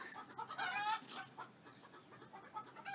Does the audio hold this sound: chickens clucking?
yes